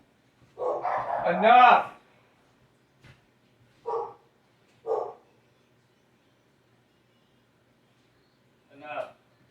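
A dog barking at another dog being walked past: a few sharp, separate barks spaced seconds apart in a quiet room, with someone shouting once near the start.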